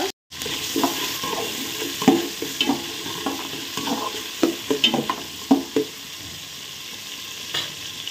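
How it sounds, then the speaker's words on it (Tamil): Shallots sauté with green chilli and curry leaves, sizzling steadily in the pan while a spatula scrapes and clacks against it in irregular bursts. The clip opens with a brief gap and has no speech. "சின்ன வெங்காயம் போட்டு நல்லா வதக்குங்க."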